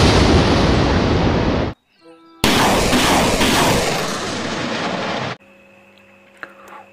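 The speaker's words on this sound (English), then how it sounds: "Ini ada pistol mainan. Ini pistol koboi." A toy cowboy pistol fires electronic gunshot sounds in two loud, dense bursts close by, with a short pause between them, followed by quieter electronic tones.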